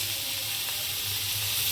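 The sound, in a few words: sautéing onions with coriander and mint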